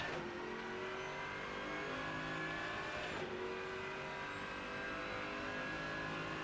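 GT3 race car lapping Monza in the Rennsport racing game: a continuous close engine roar rising and falling with revs, a short gear change mid-way and faint tyre noise, with no voices.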